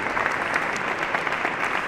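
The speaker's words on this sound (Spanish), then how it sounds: "Un aplauso os pido para David y para Jesús." An audience applauds in a church (Iglesia de San Antón) at a Christmas-themed event, a dense, steady clapping that fills the whole moment without any voices over it.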